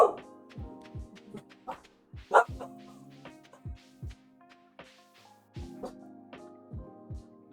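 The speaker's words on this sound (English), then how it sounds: "Very sorry again if you can hear my dog barking." A dog barks faintly and intermittently in a room while someone plays a cosy farming game. A few short barks sit among soft game tones and thumps, and a voice can be heard talking.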